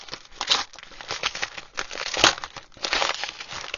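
Cellophane wrapping around 1960s proof nickels crinkles close up in irregular bursts of crackly rustling, with no one talking.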